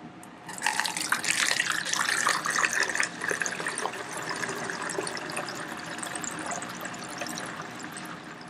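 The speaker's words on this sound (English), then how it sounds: "I'm going to pour in the baking soda with the water and isopropyl." Water mixed with baking soda and isopropyl alcohol pours through a small funnel into a container, a steady close trickle and splash that swells for a few seconds, then settles into a softer continuous flow.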